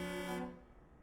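A truck horn in Euro Truck Simulator 2, one short loud blast of harmonic tone that cuts off after under half a second and leaves a faint tail.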